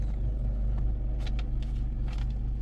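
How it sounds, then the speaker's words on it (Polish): Diesel engine of a Citroen C5 Tourer 2.0 BlueHDi 150 hp with the bonnet open, a steady low rumbling idle heard close up, with no talk. "Odpalamy samochód."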